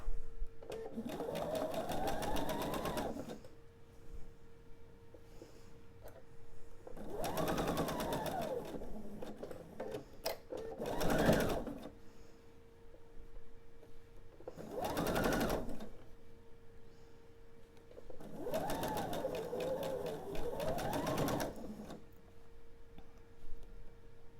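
A sewing machine stitches a quilt seam for a Rock Candy table topper in five separate runs, each a steady whirring burst with quiet pauses between, close and fairly soft.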